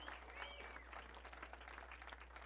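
Audience applause fills a comedy showroom after a sidekick is called onstage, a dense steady clapping with a few cheers and whistles riding over it, continuous throughout.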